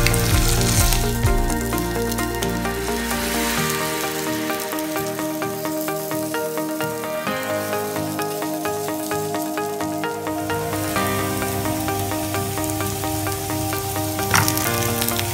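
Potato French toast, bread with potato, fries in a pan with a steady, close sizzle that runs the whole time beneath prominent background music.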